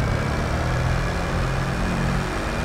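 A tractor engine idles in Farming Simulator 22, a steady low droning rumble that holds evenly at moderate loudness with no other sounds over it.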